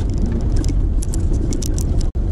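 A car rolls along a narrow road around a lake near a dam, its engine and road noise forming a loud, steady rumble with faint rattling inside the cabin.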